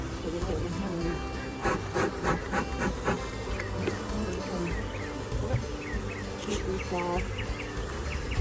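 Honeybees buzz around an opened hive being given more space, a constant close drone with shifting individual bees passing near, brief rustling and handling noises, and faint background birdsong.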